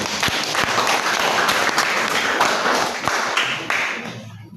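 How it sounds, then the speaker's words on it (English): An audience at a green economy and climate change forest project event applauds a speaker, brisk clapping with a few sharp louder claps, fading out near the end. "So let's clap for him."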